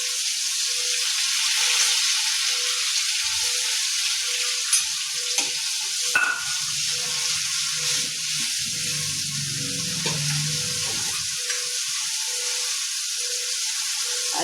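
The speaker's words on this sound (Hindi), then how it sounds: "आब एहिमे पीसल प्याज एकटा मध्यम आकार के दऽ रहल छियै।" Ground onion paste fries in oil for a lauki kofta curry, a steady close hiss and sizzle with a regular pulsing hum beneath and a few clinks and stirring scrapes partway through.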